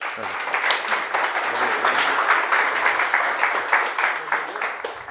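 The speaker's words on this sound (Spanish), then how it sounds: "Y le damos un aplauso, Waldy." Sustained applause from a gathered audience at a volunteer retreat held by a Catholic radio station in Costa Rica, steady and fairly loud across the whole stretch, with some voices mixed in.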